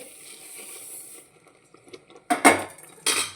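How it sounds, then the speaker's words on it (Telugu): Sesame seeds tipped into hot jaggery syrup and stirred in a pot: a faint hiss fades, then two loud metallic scrapes and clinks of a spoon against the pot ring out near the end. "ఇప్పుడైతే మనం నువ్వులు బెల్లం పాకంలో వేసుకుంటూ కలుపుకోవాలండి"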